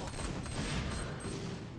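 Sustained gunfire in the mobile shooter Free Fire, dense overlapping shots forming a loud, continuous fusillade with no clear gaps.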